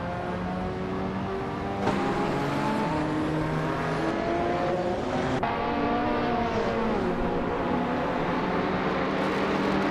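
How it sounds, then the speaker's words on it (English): Race cars roar through a video game race, with several engines whining and shifting pitch together in a continuous, loud, dense drone, punctuated by occasional gear changes and passing surges, with no talking. "Sam Turt has just overtaken one car and is now in ninth place"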